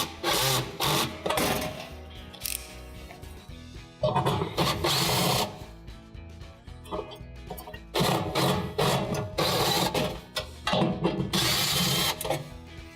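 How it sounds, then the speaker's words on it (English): Power driver whirring in repeated bursts while backing out the two 5/16 screws that hold the bake element of a Viking oven, loud and close with short pauses between runs and no talking. "The element is secured in by two 5/16 screws, so we do want to go ahead and remove the screws"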